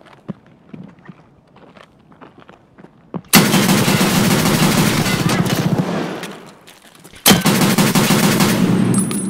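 Rapid automatic gunfire from the video game Escape from Tarkov comes in two long, loud, sustained bursts. The bursts follow a quieter stretch of footsteps and small movement noises, and a short pause separates them.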